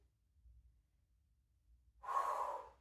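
A single breathy exhale during a yoga core exercise, close and soft, arriving after a near-silent stretch with only a faint low rumble beneath.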